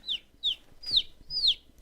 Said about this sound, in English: we also have baby chickens, so you might hear them chirp